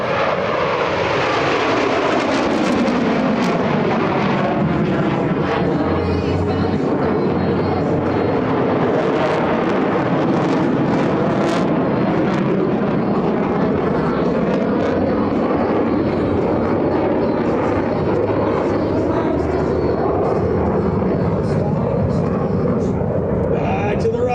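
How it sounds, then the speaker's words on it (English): US Navy Blue Angels jets fly a barrel roll at an air show, a loud continuous jet engine roar that swells and shifts in pitch as the aircraft pass, sustained throughout with little break. "Ladies and gentlemen, the barrel roll begins."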